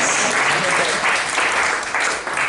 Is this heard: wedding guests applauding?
yes